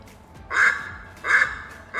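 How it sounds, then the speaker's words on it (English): Duck quacks played in an animal sound guessing game, three loud, nasal calls spaced evenly apart. "Duck. Quack,"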